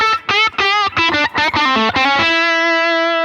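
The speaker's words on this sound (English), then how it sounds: "It's a really nice, aggressive bridge pickup." A Stratocaster electric guitar on its aggressive bridge pickup plays a quick run of distorted, bright notes, loud and close, ending on a sustained ringing note.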